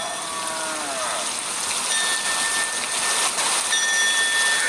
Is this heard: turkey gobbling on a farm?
no